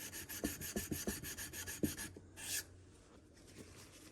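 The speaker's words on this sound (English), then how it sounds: "I'm going to go up on that 320 I have up here and just wipe the burr off" A knife blade drawn across a 320 grit sharpening stone to remove the burr, a quick run of short rhythmic rasping strokes, then a pause and a few softer scrapes, close and quiet.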